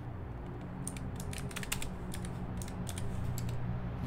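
Rapid clicking keystrokes on a computer keyboard, close and fairly loud in irregular bursts over a steady low hum, no talking.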